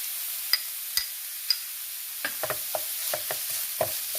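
Grated raw mango frying with masala in a pan, a constant soft sizzle broken by sharp spatula clicks and scrapes as it is stirred.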